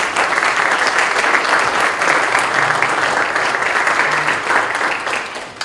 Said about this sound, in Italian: Un applauso per Laura Magnone.